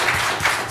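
Audience at a township council meeting clapping briefly after a public comment, a short burst of a few hands nearby that quickly dies out.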